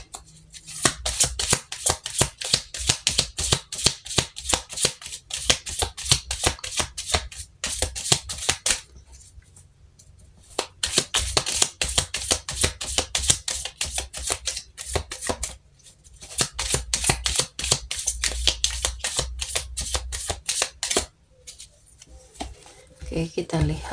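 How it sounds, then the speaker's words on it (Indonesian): Tarot cards being shuffled by hand, a long run of rapid crisp riffling flutters broken by short pauses, close and fairly loud with no talk. "Kita langsung shuffle kartunya"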